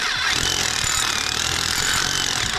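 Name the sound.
drill boring through for EV charger cable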